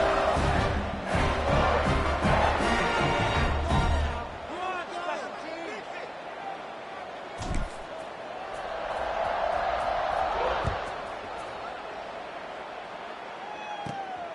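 Football stadium crowd at a college game roaring and cheering loudly, a dense wall of noise that fades after a few seconds and then swells again, with an announcer talking over it.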